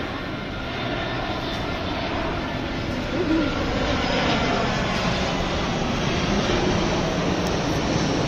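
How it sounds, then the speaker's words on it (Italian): A steady, broad roar of an airplane passing overhead in Pescara, Italy, holding fairly constant and loud throughout. "passa un aereo"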